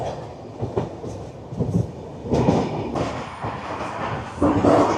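An early-morning sleeper train rolls along the rails, making a continuous rumble and clatter heard from inside a sleeper coach, steady and fairly loud with small surges.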